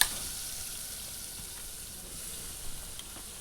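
Onion and tomato frying in oil in a pot, a faint, steady hiss of sizzling with a few light stirring scrapes, close but quiet and unbroken.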